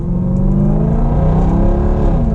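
A 2026 Dodge Durango SRT Hellcat accelerating hard, its exhaust a loud, close, continuous roar with the engine note climbing steadily as it pulls.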